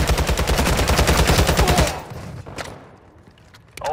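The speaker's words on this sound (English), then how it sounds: "Taking effective fire." Rapid automatic gunfire in a military shooter game rattles hard and loud for about two seconds, then cuts off, leaving scattered faint shots and low background noise.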